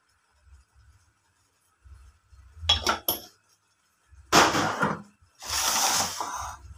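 A metal spoon clinks and scrapes against a steel bowl while ground spices such as turmeric, garam masala and dry coriander are mixed for kheer, in a few short close bursts separated by quiet.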